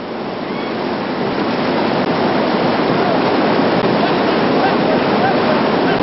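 Whitewater rafts crashing through big river rapids on the Arkansas River, a loud, steady roar of churning whitewater and waves filling the whole scene without pause.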